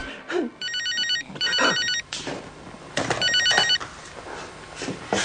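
A landline telephone rings indoors in a home, three bursts of trilling electronic ringing with short gaps, fairly loud and close, with some background voices and movement between rings.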